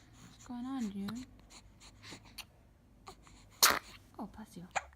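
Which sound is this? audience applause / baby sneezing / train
baby sneezing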